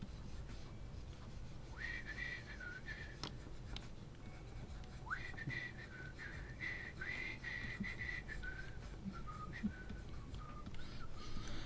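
Quiet, wavering whistled tune in short phrases, drifting in and out over steady low background hum during a relaxed miniature-painting session.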